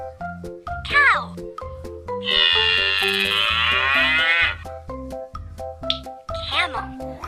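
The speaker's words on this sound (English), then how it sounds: "Cow." A single drawn-out cow moo, loud and close, lasting about two seconds over a bouncy children's music backing track with short bright squeaks around it.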